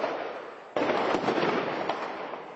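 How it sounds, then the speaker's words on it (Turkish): Ammunition depot in Afrin detonating in a sustained wartime blast, a loud broadband roar that jumps sharply in intensity partway through and keeps rumbling with crackling bursts, no voices over it. "Çok büyük bir patlama daha oldu az önce."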